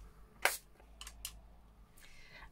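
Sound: spray bottle spraying

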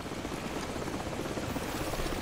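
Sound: helicopter in video game Call of Duty 4 Modern Warfare

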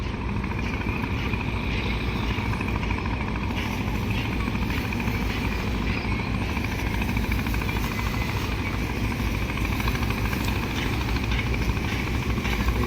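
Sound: passenger launch MB Sampad engine passing a bridge

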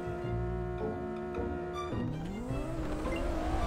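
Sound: Audi R8 car engine racing in Roblox video game

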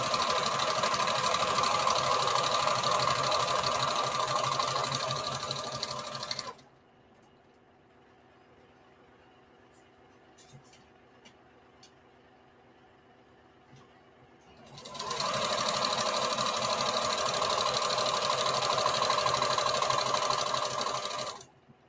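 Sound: sewing machine sewing bandana patchwork skirt panel

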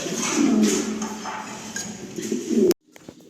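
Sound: pigeons cooing

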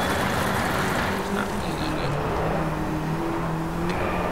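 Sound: Mini car racing in Driveclub video game

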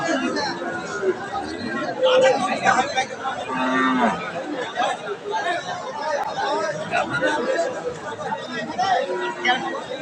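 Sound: pregnant Friesian cow mooing at cattle market

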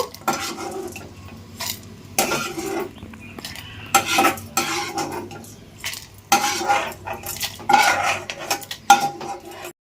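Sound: fried food being removed from pan with utensils

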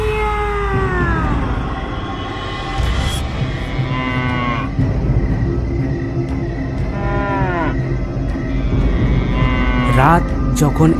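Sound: cow bellowing in distress

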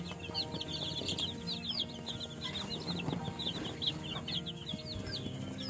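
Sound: chicks one to two weeks old cheeping

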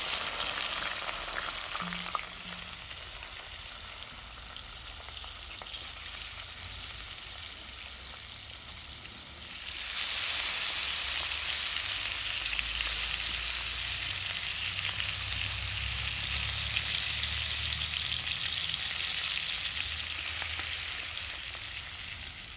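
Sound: frying fish in oil

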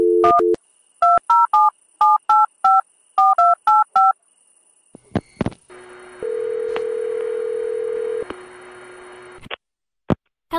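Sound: telephone dialing tones while calling a phone number

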